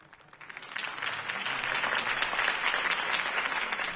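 Crowd applause rises and swells to a steady, dense roar of clapping for Harvey Dent's campaign speech in the Batman Telltale video game, sustained and fairly loud with no talk over it.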